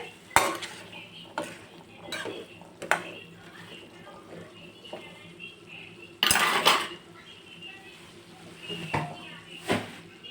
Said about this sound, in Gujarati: ફ્રેશ ધાણા સ્પ્રિંકલ કરીશ બધું આપણે મિક્સ કરીને ગેસ બંધ કરી નાખશું